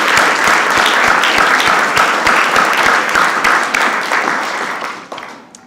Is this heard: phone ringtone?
no